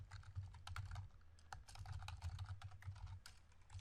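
Quick, irregular clatter of keys on a computer keyboard, close and quiet, with steady rhythmic taps and short pauses, no talking.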